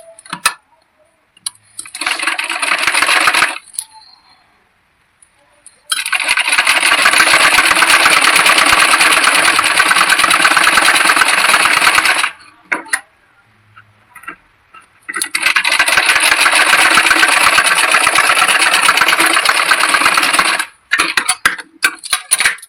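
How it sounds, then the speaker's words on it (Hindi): An electric sewing machine stitches a blouse button strip in three long loud bursts of fast, even whirring and clatter, separated by short pauses with small clicks of handling. "यहाँ पर हम आधा इंच के बराबर कपड़े को दबाते हुए यहाँ पर हमें सिलाई को लगाना है"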